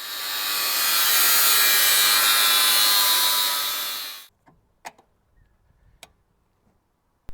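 An angle grinder trims metal to make clearance for a brake booster upgrade on a 40 series vehicle, a loud, steady high whine lasting about four seconds before cutting off, followed by a few faint clicks and taps.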